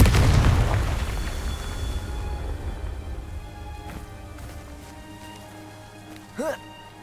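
Confringo spell explosion in the video game Hogwarts Legacy: a loud booming blast at the start that decays into a long rumbling tail, with a brief bright magical chime near the end.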